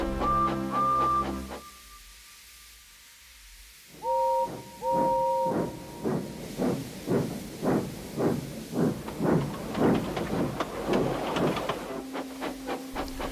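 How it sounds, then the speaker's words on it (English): A steam locomotive lets out whistle toots, then chuffs, hisses and clanks in a rhythmic series of bursts that grow busier, ending with another whistle tone. "came clanking past, hissing rudely"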